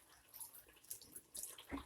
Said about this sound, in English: And I add just a little water, a little more water,